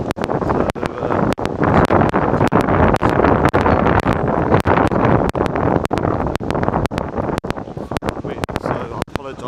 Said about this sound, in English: It's going to be a lot of wind.